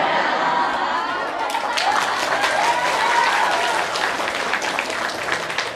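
Audience applause at a gathering of scholarship Quran students, a sustained wash of clapping from a large crowd with some chatter mixed in.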